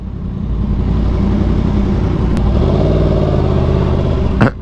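Several sport motorcycles, a BMW M1000RR, Aprilia RSV4 and Yamaha R1, rumble and rev together nearby in California, a loud steady engine drone with rising revs toward the end.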